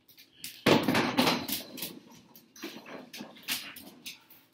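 A dog barks in excited, rapid bursts, loud and close at first, then continues in a scattered run of sharper yelps and barks that fade somewhat toward the end.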